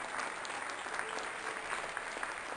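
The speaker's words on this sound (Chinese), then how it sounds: "掌声欢迎" A studio audience on a television health program claps to welcome a guest, a brisk burst of many hands applauding together, steady and fairly close, with no speech on top.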